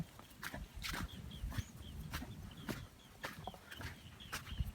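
Several hens cluck and murmur nearby in short, irregular bursts, with a few higher calls against a quiet farmyard background.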